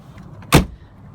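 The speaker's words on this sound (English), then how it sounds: "I can get the door open." A car door opening on a 1997 Land Rover, one short, solid clunk, close and alone.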